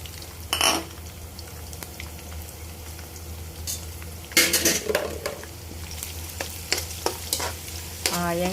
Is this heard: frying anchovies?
yes